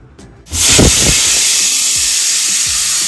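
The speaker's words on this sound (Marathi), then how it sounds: "चला तर मग आता आपला कुकरच्या 3 शिट्ट्या झालेल्या आहेत." A pressure cooker whistle releases steam while urad dal boils inside, bursting in as a loud, steady hiss after a short quieter moment and holding strong to the end.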